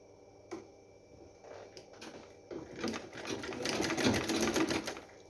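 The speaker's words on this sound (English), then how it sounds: "I'm using sewing machine just to join it" A sewing machine joins knitted baby leggings, starting with a few clicks and then running into a fast, rattling burst that builds louder before easing off.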